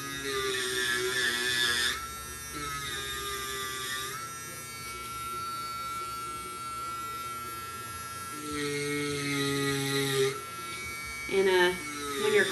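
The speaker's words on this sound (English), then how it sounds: "when you're carving with the Dremel tool, it churns the pumpkin flesh into kind of like a paste, pumpkin pie consistency" A Dremel rotary tool grinds into pumpkin flesh, giving a steady high-pitched motor whine with harmonics that shifts in pitch as the bit bites in and eases off, fairly close and continuous throughout.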